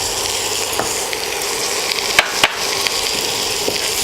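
Small-cut tomatoes frying in a hot pan for a Kerala-style mushroom gravy, a loud continuous sizzle broken by a few sharp scrapes and knocks of the stirring spoon.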